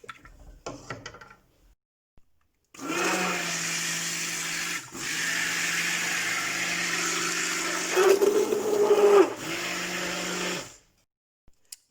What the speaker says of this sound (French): je vais passer un petit coup de mixeur plongeur pour que ce soit encore plus lisse